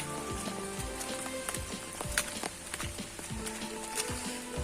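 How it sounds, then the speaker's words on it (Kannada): Rain falling during a sudden thunderstorm, a steady soft patter of drops on surfaces with a few louder splashes, continuous and moderately quiet with no voices. "ಮಳೆ ಸ್ಟಾರ್ಟ್ ಆಯ್ತು ಈಗ ನೋಡಿ."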